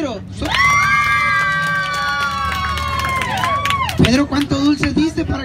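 Crowd of children at a neighborhood Children's Day party cheering and shouting for a contestant named Pedro, a loud sustained whooping chorus lasting a few seconds, followed by clapping and scattered shouts.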